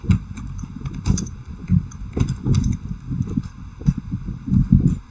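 Someone types commands on a computer keyboard while configuring a Cisco network switch, irregular clusters of close, loud keystrokes clacking alone.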